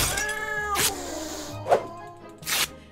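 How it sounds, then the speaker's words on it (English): A cat meows in the video game Jazzpunk, with a few drawn-out, wavering cries up close, broken by short noisy thumps, and no talk. "Oh, it's a kitty!"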